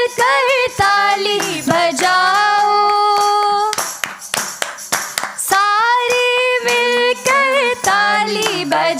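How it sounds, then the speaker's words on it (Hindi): A church congregation claps along in rhythm, the hand claps sitting under loud, sustained singing voices that dominate the sound. "सारे मिलकर ताली बजाओ। How loud is your clap for Jesus?"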